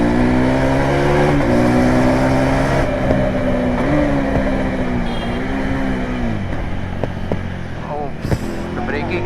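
A KTM 390 Adventure motorcycle accelerating hard through the gears with a quick shifter, a loud continuous engine drone rising and dropping in pitch with each shift, close and steady throughout.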